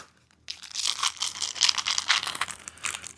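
Packaging around a box of bolts is cut and torn open, a close, continuous crinkling and rustling that starts abruptly after a brief quiet moment.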